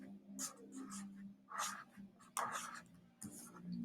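A pen or pencil writes a label on a blank sheet of paper in short scratchy strokes with pauses between them, close and faint, with no talking.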